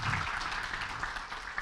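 A brief burst of audience applause from students at a campus orientation event, steady dense clapping heard at moderate distance in a reverberant hall.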